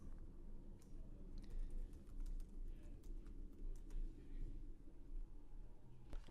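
Someone types a short search on a computer keyboard, a quick run of distinct clicks in uneven bursts, close and fairly quiet.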